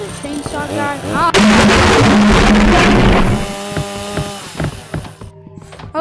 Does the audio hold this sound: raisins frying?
no